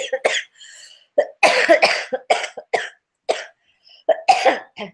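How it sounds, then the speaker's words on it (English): Repeated harsh coughs come in quick clusters, close and fairly loud, with brief wheezy breaths and short pauses between fits. "We're huffing and puffing and coughing away."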